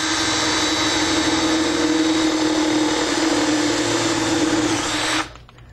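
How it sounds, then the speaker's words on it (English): A loud, steady power drill whine with a 7/16 bit drilling through the bottom of a SentrySafe Big Bolt safe runs continuously for several seconds, then cuts off abruptly near the end. "Get a drill with a 7/16 bit."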